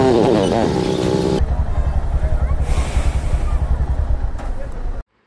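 Road traffic heard from a motorbike in heavy traffic on the way to Srisailam: a loud, steady engine and wind roar runs throughout, with a louder rumbling passage at the start, then cuts off abruptly at the end.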